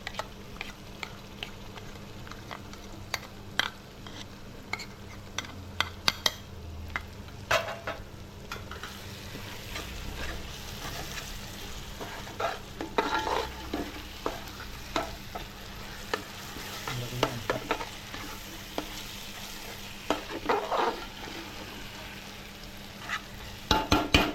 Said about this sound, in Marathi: याच्यामध्ये आता आपण आलं लसूण मिरचीचं पेस्ट टाकणार आहोत